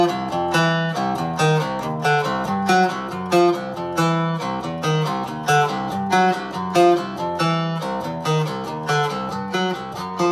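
Notes plucked on a baritone cigar box guitar, each paired with its octave, ring out in a steady, fairly quick rhythm, close and clear with no talking.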